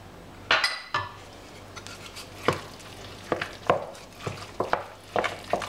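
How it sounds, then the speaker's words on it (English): Stock being worked into a raw beef and pork meatball mixture in a bowl, heard as a few scattered wet squelches and soft clinks of a spoon against the dish, with quiet gaps between. "give it a bit of a mix"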